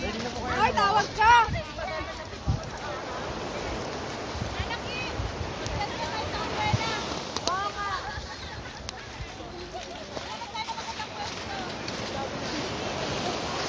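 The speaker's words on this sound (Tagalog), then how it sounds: "Ang laki ng alon dito sa Gyeongpo Beach at South Korea." Big ocean waves crash and surge at Gyeongpo Beach, South Korea, a loud rolling roar of surf that swells and recedes, heard beneath lively chatter and exclamations from nearby people.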